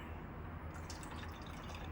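Kangen water is poured into tea, a quiet trickle and splash that stays steady for a moment and then turns into brighter dripping spatters over soft background hiss.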